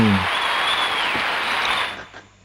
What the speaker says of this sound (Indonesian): Yang tepuk tangan siapa bro?